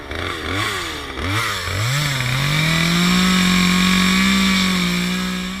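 A chainsaw cuts wood while carving a mother bear figure; the engine revs up and down several times, then settles into a loud, sustained high-pitched roar close by.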